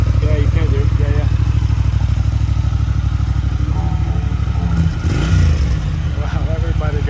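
A motorcycle engine with the silencer removed idles loud and raw, with a rapid throbbing exhaust pulse and a brief rev near the end. People talk nearby over the engine.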